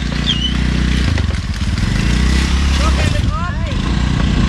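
A motorcycle engine runs steadily in Siargao after Typhoon Odette, a low, even rumble close by while people talk over it throughout.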